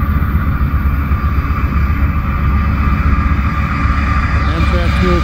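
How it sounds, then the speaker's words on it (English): Amtrak Southwest Chief passenger train, running hours late, rumbling steadily past on track in Cajon Pass, a loud continuous roar of wheels and engine throughout with a faint rising whine near the end. "Another late Amtrak."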